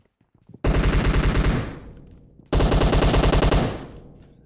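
Gunfire in PUBG Mobile, two loud bursts of rapid shots, each lasting over a second and fading out with a ringing tail, close and dominant.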